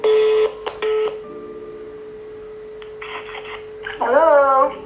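Telephone being dialed for a call, with a steady tone broken by short keypad beeps and bursts of dialing tones, ending as a voice comes in over the line.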